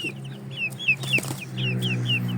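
Young Shamo and Indio Gigante chickens cluck in a series of short, repeated calls, fairly close, over a steady low background hum with no talk.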